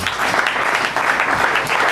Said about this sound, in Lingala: Acclamez pour la gloire de Dieu